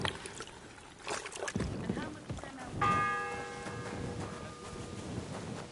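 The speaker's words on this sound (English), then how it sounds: "The 7th bell." A church bell in the Kingdom Come Deliverance video game strikes once and rings on with a sustained, fading tone over a busy, rustling background.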